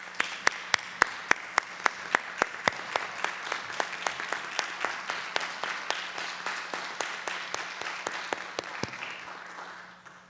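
Audience applause at a county school district board meeting, starting with a few sharp, distinct claps and filling out into steady, moderate clapping from a modest crowd before it thins out.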